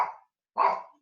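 A small pet dog barks indoors at home: two sharp, close barks about half a second apart, each fading quickly, with silence between them and no talking.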